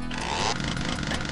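A buzzing, rasping motor whine like a revving chainsaw weapon in the video game DOOM, loud and close, surging for a moment then settling into a steady grinding drone across the short burst, with faint speech in the background.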